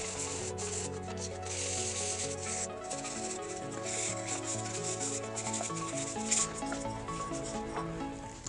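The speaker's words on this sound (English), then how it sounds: "it doesn't take very long at all to sand one of these blocks" Hand sanding a wooden puzzle block with 320 grit sandpaper makes continuous close, soft, scratchy rubbing strokes with no pauses.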